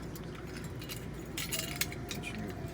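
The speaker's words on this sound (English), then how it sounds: "Put your keys on there." Metal keys jingle and clink lightly while being slipped onto a camper key ring, faint and intermittent over a steady low background hum.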